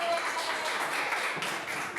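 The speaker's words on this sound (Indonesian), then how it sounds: "Kita beri tepuk tangan dulu untuk kelompok Kire." A classroom of students claps for a group about to present, a short dense patter of many hands filling the room at steady loudness.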